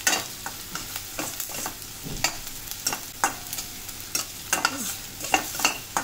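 Medium-cut onion frying in a pan for kandvani, a soft sizzle under repeated scrapes and clinks of a spoon stirring against the pan, fairly quiet and close.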